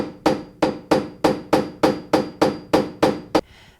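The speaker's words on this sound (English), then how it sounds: "Now chisel around the marked line for the striker plate." Hammer strikes a chisel while cutting a recess for a door striker plate, eleven sharp, evenly spaced blows in a steady rhythm, close and loud with no talking.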